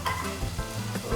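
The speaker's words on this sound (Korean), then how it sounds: "당근은 색깔 변할 때까지만, 살짝 투명해질 때까지만 살짝만 볶아주세요" Carrots sizzle in a hot pan while being stir-fried after garlic, a short close crackle with soft scraping stirs through the sizzle.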